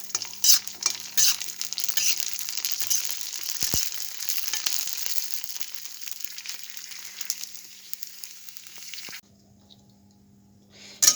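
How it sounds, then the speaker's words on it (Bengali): Ready-made fuchka puris frying in hot oil crackle and sizzle up close for about nine seconds, with occasional scraping stirs, then the sound drops away to near quiet. "এবার আস্তে আস্তে আমি ফুচকাগুলো একটু সুন্দরভাবে ভেজে নেব।"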